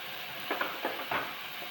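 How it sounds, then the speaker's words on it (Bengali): Ginger garlic paste and tomato puree frying in a pan, a steady hiss with three or four short stirring scrapes in the middle, fairly quiet and close. "এখানে দিচ্ছি প্রয়োজন মতো জিঞ্জার গার্লিক পেস্ট, তারপর দিচ্ছি টমেটো পিউরি"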